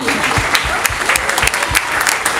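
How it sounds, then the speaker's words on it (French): Outdoor crowd applause at the Florangeoise 2023 event in Florange, greeting the Training Club Canin as it opens the parade, with loud, continuous close clapping and some sharp individual claps standing out. "On peut les applaudir"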